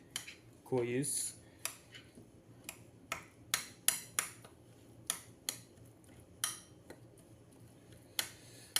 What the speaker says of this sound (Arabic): اخلط المكونات